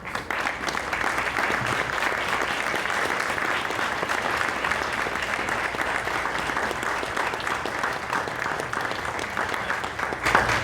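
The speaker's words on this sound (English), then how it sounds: "Let's give them a round of applause" Loud, sustained applause from a crowd at a formal book signing event honoring published authors, thick continuous clapping held at a steady level for about ten seconds with no talking.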